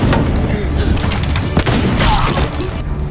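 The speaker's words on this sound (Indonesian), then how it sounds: "Selanjutnya adalah terjadi aksi tembak-menembak." Gunfire shootout from the Indonesian western film Buffalo Boys, a dense continuous barrage of loud shots and booms under a thick rumbling score with possible voices, sustained throughout.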